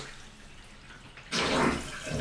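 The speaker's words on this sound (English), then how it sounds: "So we'll run some water through it again." Water from a new faucet on a cultured marble vanity top suddenly gushes into the sink and drain after a quiet stretch, a steady close splashing rush that holds to the end.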